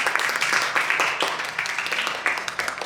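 Applause from the audience at a panel discussion, dense clapping that holds steady for about three seconds at a moderate distance.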